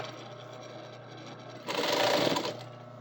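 A sewing machine stitches a waistband onto a garment, first running at a steady low hum, then surging louder and faster for about a second before easing back down.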